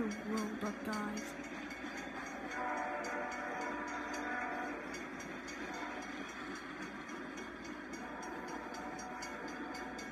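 A train rolls past at Rogersville with a continuous loud rumble and grinding roar, a brief horn tone at the start, steady throughout with no voices.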